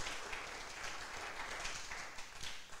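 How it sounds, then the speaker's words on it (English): Audience applause at a college communication studies media showcase honoring a third-place award winner, a steady, fairly faint wash of clapping throughout with no voices. "Let's give him a round of applause."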